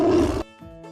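A tiger gives one short, loud, close roar that stops abruptly, followed by a faint low tone.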